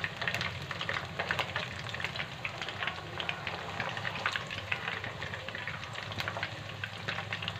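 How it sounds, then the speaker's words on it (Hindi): Nargisi kebabs fry in oil in a pan, giving a steady dense sizzle with crackling pops that runs the whole time, with no talk over it. "एक तरफ से फ्राई करके हम इनकी साइड चेंज कर देंगे और इनको ब्राउन होने तक फ्राई करेंगे।"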